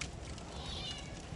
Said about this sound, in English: now my cat wants out again.